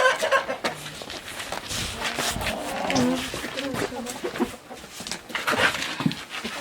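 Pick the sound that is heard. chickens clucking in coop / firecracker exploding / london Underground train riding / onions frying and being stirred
chickens clucking in coop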